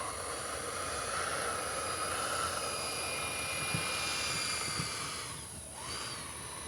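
Freewing A-6 Intruder 80mm EDF RC jet taxiing on the ground, a steady high-pitched ducted-fan whine with a broad rushing roar that holds level and dips briefly near the end, with no talk over it.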